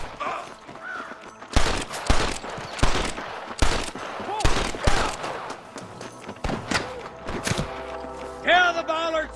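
Gunfight with snipers in the Red Dead Redemption video game: repeated loud gunshots and bursts in irregular clusters, with shouted voices and game sound effects mixed in.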